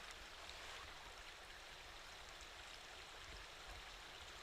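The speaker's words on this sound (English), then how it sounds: "you can hear the water going by" Water flows through an underground punch bowl in a steady, faint, hissing rush that holds even throughout, with no other sounds.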